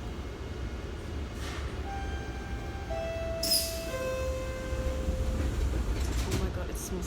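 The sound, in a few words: train riding on rails, heard from inside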